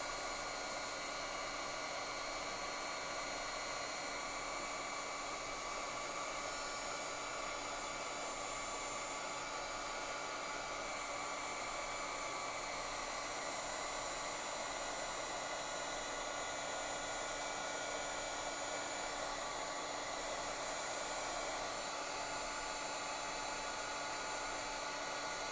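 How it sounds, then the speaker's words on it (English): A hot heat tool melts embossing powder on a handmade card, a steady loud hair-dryer-like rushing blow that holds constant throughout with no talk. "make sure that your tool, your heating tool, is very warm before you bring it over to your embossing powder"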